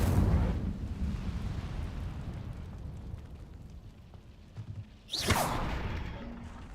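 Incendio fire spell cast in Hogwarts Legacy: a rumbling fiery roar that fades, then a sharp whooshing burst of flame near the end, with no talk.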